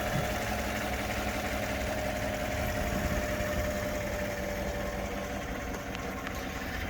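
A stock 5.3-liter V8 in a 2015 Chevrolet Silverado 1500 idles with a steady, even rumble, heard close and unchanging throughout.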